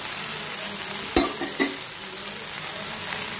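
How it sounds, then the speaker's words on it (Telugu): Jowar flour dosa frying in oil on a hot pan, a steady close sizzle with two sharp spatters or scrapes early on, no voices. "మళ్ళీ కొంచెం ఆయిల్ వేసి అటువైపు కూడా కొంచెం కాల్చుకోవాలి."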